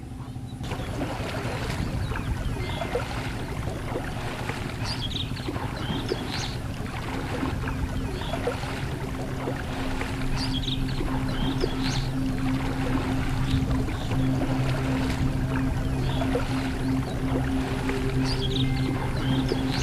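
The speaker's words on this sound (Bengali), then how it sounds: "কিসের শব্দ? কিসের শব্দ? ইঞ্জিন নৌকা" An engine-driven wooden country boat on a river chugs past with a steady low droning hum that holds evenly throughout.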